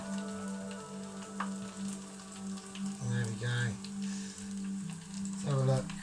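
Battered chicken pieces for sweet and sour chicken crackle and sizzle in hot oil with a soft steady fizz, while a voice briefly murmurs over it.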